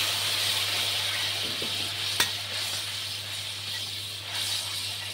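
Cooked-down spice paste for a spicy Bombay duck jhuri, with a little water just added, sizzles and hisses steadily in the pan, close and even, with a single sharp clink of a utensil partway through.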